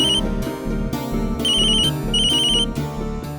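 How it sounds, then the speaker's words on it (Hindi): A mobile phone ringtone plays a repeating melodic tone pattern, loud and steady throughout, in a Hindi TV drama scene. "अरे तेरा फोन बज रहा है ना कब से?"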